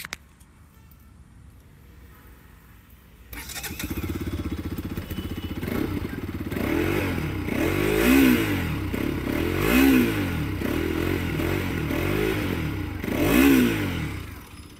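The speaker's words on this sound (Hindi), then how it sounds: "कुछ इस तरह का एग्जॉस्ट नोट मिलता है आपको RS200 के साथ में" A Bajaj Pulsar RS200 motorcycle starts after a quiet moment, then idles with a throaty exhaust note and several sharp rev blips, close and loud.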